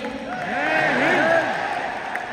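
A stadium audience applauds Dr. Kiran Bedi at a fifth-anniversary event, a steady wash of clapping and crowd noise with a swell in the middle and what sound like cheers or voices mixed in.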